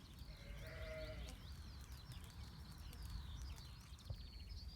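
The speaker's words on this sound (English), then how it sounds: "This is a field of ewes with multiples in, either 3 or 4 lambs" Ewes carrying triplets and quadruplets bleat in a soggy field. Several thin, wavering calls overlap in the first second or so, then fainter distant bleats continue over a steady outdoor background.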